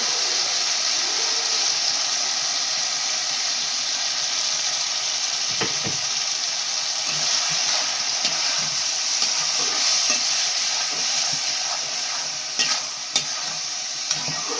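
Mustard paste being stirred into frying okra in a pan, giving a steady close sizzle and hiss with soft scraping stir strokes throughout and no talking.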